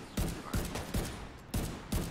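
Gunshots in The Division 2, five heavy, evenly spaced shots about every 0.4 seconds, each a sharp booming crack with a short tail, fairly loud with no talking.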